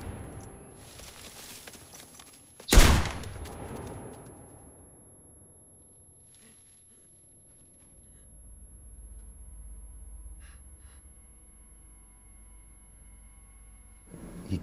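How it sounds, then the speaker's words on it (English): A single sharp gunshot from the film A Single Shot, fired by a hunter poaching on conservancy land: one loud, close crack with a long fading tail, then a low rumble in a quiet scene. "One day he's out poaching, hunting on conservancy land, and he takes a fateful shot."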